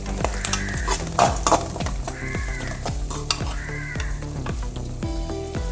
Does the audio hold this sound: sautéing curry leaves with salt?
yes